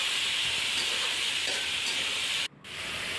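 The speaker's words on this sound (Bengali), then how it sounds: "তেলটা গরম হলে আমি মেথি ফোড়ন দিয়ে আমি ছড়াগুলো ঢেলে দেব" Fenugreek seeds and pieces of rohu fish hiss and sizzle steadily in hot oil, a loud, close frying crackle that cuts out abruptly partway through and then slowly builds back.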